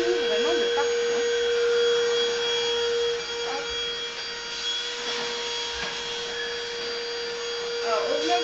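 A household vacuum cleaner runs steadily while cleaning into corners, with a constant loud motor whine and hiss that shifts slightly as it is pushed around, with a few faint words spoken over it.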